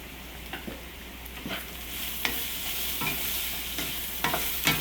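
Fennel seeds frying in oil for a vegetable curry, a steady soft sizzle punctuated by regular spoon scrapes and taps as they are stirred.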